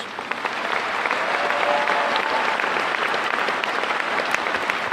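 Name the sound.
audience applause at high school commencement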